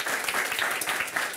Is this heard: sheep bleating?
no